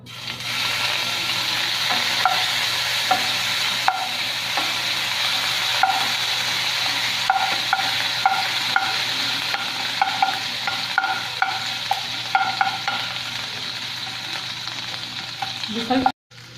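Ginger garlic paste sizzles steadily in hot oil in a pan for tempering, a loud continuous fry with repeated light clinks of a spoon stirring, no voices, ending abruptly.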